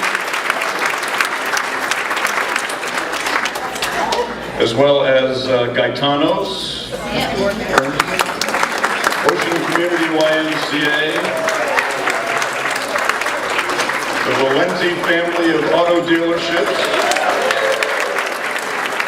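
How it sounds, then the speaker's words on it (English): Diners at a chamber of commerce dinner keep up a steady crackle of clapping as sponsors are thanked, with someone speaking over the applause through much of it. "Big round of applause for community banking."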